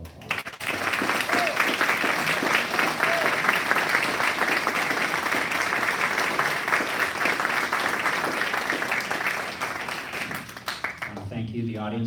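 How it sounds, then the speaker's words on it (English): A room of audience members applauds candidates at a congressional candidate forum, steady dense clapping for about ten seconds before it thins and a voice begins to speak. "can you please give them all a round of applause?"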